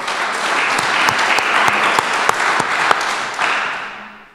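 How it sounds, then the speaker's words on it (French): A conference audience in Dijon applauds Pierre Leroy, a dense, steady round of clapping with a few sharp individual claps standing out, fading away at the end. "Applaudissements pour Pierre Leroy."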